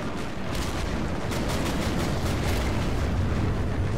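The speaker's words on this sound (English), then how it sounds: "That artillery is pounding the center." Continuous dense rumble of distant artillery shelling in the video game Men of War Assault Squad 2, with a few sharper blasts rising out of a steady, loud battlefield roar and no voices.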